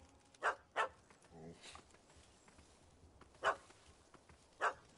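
A dog in The Witcher 3: Hearts of Stone barks in a few sharp, spaced yaps, soft and somewhat distant, over a low murmuring game ambience.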